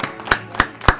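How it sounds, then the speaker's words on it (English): A few people at an office meeting in the film Birdemic clap their hands, three sharp separate claps about a third of a second apart, close and dry with no talk. "We're in the middle of this boring ass office meeting where they clap so much, dude."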